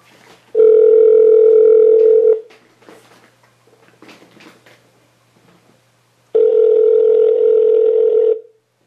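A telephone ringback tone sounds twice, a steady electronic burr lasting about two seconds each, separated by a long quiet gap with faint background rustle.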